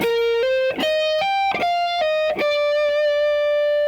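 A clean electric guitar plays a short riff from the solo of Weezer's "Say It Ain't So", sustained single notes each bending up or sliding to the next pitch, ringing clearly with no voices.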